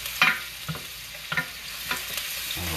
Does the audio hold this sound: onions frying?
yes